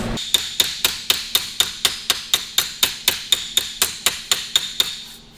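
A hammer planishes sheet metal for a patch panel repair on a dolly held in a vise, about twenty sharp ringing metallic strikes in a fast even rhythm, loud and close with no talk.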